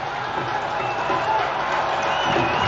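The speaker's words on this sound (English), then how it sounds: "The crowd responding" Cricket crowd at the India vs New Zealand World Test Championship final, cheering and clapping as Kohli urges them on from third slip; a steady, broad roar of many voices, continuous and moderately loud throughout.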